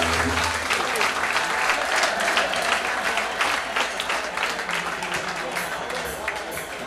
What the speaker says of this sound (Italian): di fare un bellissimo applauso